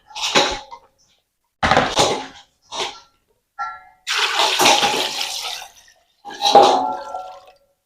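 Water pours in short bursts into a pot of washed palm fruit, five or six separate splashing gushes with quiet gaps between, close and fairly loud, with no talking.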